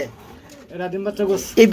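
A breeding pair of Mondi pigeons coo close by, a few low, rounded coos growing louder toward the end.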